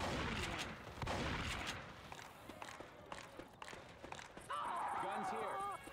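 Left 4 Dead 2 gameplay with bursts of gunfire and scattered shots amid footsteps and game noise, while players talk over the action.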